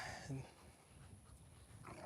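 Faint, quick rhythmic panting from a pet dog indoors, with a brief vocal sound near the start, under low background noise.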